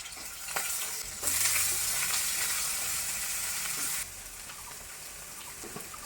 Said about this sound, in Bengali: পাতাটা ভেজে দিচ্ছি আমি, বাটা করবো।